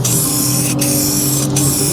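Steady hiss of spray paint from a rattle can, used to touch up worn paint at an aging waterpark, running continuously with two brief pauses, close and fairly loud.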